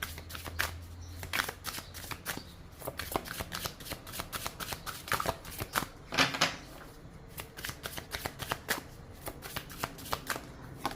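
Symbolon astrology cards being shuffled by hand, a steady run of quick papery riffles and flicks, close and fairly soft, with no one speaking.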